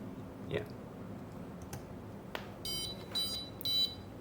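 Several short electronic beeps from an Arduino-driven LCD server status screen, a brief chirp followed by clustered tonal bleeps toward the end, moderately loud over a quiet room hiss.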